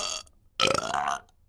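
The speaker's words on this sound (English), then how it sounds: "I got you on a monster burp" A woman lets out a loud, long, croaky burp, preceded by a short breathy vocal sound and a pause, close to the microphone.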